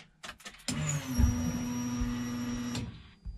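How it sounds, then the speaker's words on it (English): A hard-mounted DW300 fuel pump in a BMW E30 with a turbo M52 swap whines loudly and steadily for about two seconds after the key is turned on, a high, piercing tone over a low hum, with no talking. "there's like an ear-piercing whine"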